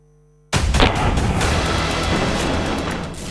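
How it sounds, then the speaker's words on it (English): Artillery bombardment and gunfire in Kherson: after near silence, a sudden loud blast breaks into a dense, sustained rumbling roar with scattered sharper cracks. "Gunfire, explosions, bombardments, incessant rain of missiles and rockets."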